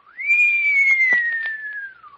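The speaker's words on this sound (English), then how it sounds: "whistle in amazement" A single long whistle of amazement rises sharply, then holds and slowly falls for about two seconds, clear and prominent against near silence.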